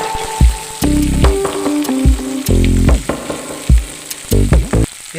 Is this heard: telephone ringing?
no